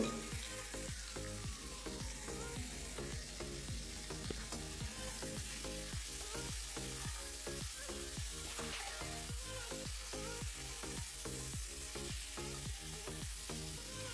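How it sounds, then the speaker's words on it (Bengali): Pointed gourd (potol) pieces, coated in spice, fry in hot oil with a steady, dense sizzle throughout, punctuated by regular scraping and stirring clatters of a spatula in the pan. "তেলের মধ্যে দিয়ে দেবো যে পটলগুলোকে আমি মেখে রেখেছিলাম সেগুলো এখানে দিয়ে দেবো এবং হালকা করে আমি পটলগুলো ফ্রাই করে নেবো"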